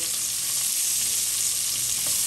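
Sausage sizzles in a hot pan while browning for pastalaya, a loud, steady crackling fry with dense spitting that holds evenly throughout, with no talking.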